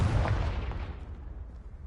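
The Confringo fire spell from the Hogwarts Legacy video game goes off as one loud, booming blast that fades into a rumbling tail within two seconds.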